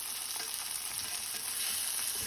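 Chicken searing in a hot pan, a steady, even hiss of frying sizzle at moderate level throughout, with no voices.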